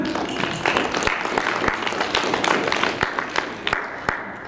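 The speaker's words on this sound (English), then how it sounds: "Everybody clap it up for Regina." Audience applause in a school auditorium as a woman named Regina walks in, a steady wash of many hands clapping with sharper individual claps standing out, fairly close and continuous throughout.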